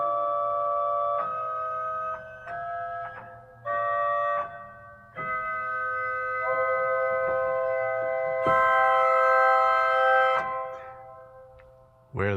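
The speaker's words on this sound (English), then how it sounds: "That was the sound of a pipe that was just getting a little bit of air and not a full supply." A pipe in the Brunzema Opus 12 church organ given only partial wind, so its steady tones sound thin and unsteady. Several sustained notes shift and overlap, with short breaks and brief clicks between them.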